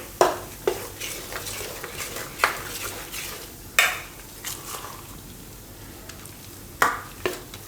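Idli batter being stirred with Eno and water in a metal bowl, giving irregular spoon scrapes and clinks against the sides, close and fairly quiet, with no talking.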